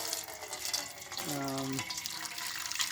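Water from a jar of fermented tomato seeds is poured off into a container, giving a steady splashing trickle with talking over it.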